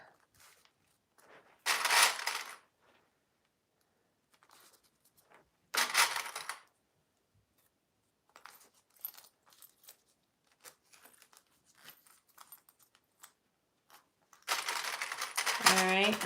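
A sewing machine bastes a zipper onto a purse in three short bursts of rapid stitching, near and fairly loud, separated by quiet handling noises and soft shuffling.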